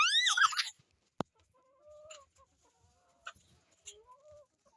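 Chickens at a small poultry farm give a loud squawk up close, then a single sharp knock and scattered soft clucks and calls in a quiet pen.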